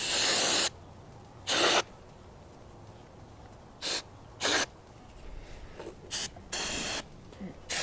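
Carburetor cleaner sprayed onto a lawn mower carburetor outdoors over grass: a series of sharp, loud aerosol hisses in short bursts of varying length, separated by quiet gaps, with no talking.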